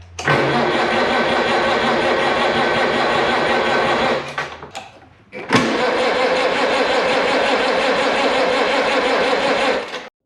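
A 70-year-old Farmall Cub tractor engine runs loudly and close, stumbles and nearly dies about halfway, then catches again and keeps running steadily until it cuts off at the end.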